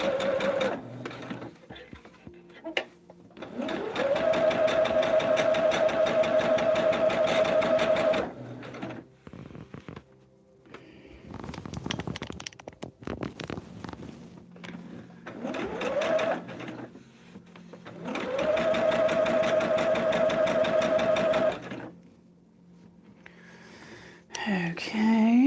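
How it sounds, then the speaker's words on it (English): A sewing machine bastes a quilted table topper with a long stitch length. Two long steady bursts of fast mechanical stitching are separated by quieter handling sounds and soft movement. "Bring my stitch length up and let's do some basting"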